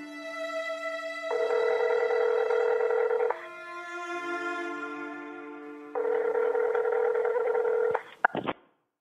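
An unanswered phone call rings out in long repeated electronic ringback bursts with short pauses between them, loud and steady, ending in a few abrupt clicks as the line cuts off.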